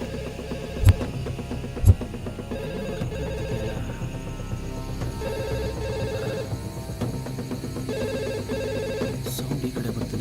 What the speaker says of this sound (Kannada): ಇಲ್ಲೇ ಎಲ್ಲೋ ರಿಂಗ್ ಆಗ್ತಿದೆ.